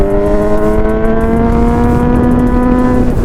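Honda CB1000R motorcycle engine revving loud and close after an ECU reflash and retune, a steady rising howl held for about three seconds.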